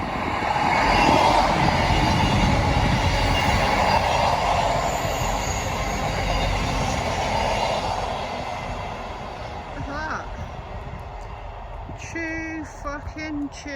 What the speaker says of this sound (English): Oh, the train's coming.